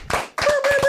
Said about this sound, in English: Clap it up for the boy.